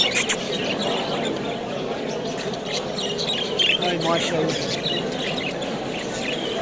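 Many budgerigars chirp continuously in a busy hall at a large pet fair, a dense twittering chorus under steady crowd noise, with a person speaking briefly over it.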